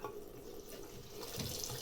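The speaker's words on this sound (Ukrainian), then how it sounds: "Якщо ми тільки зараз включаємо кран, а ви подивіться, тільки буквально чуть-чуть тече водичка" A household tap runs at a low trickle in a house with a failing automatic water-supply system, giving a faint, steady wash of water with no one speaking.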